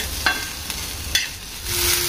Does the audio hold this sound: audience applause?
no